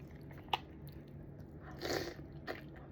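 Coco Crunch cereal in fresh milk being bitten and chewed up close, a sharp crunch near the start, then a louder chewing burst and a final crisp bite, with no talking.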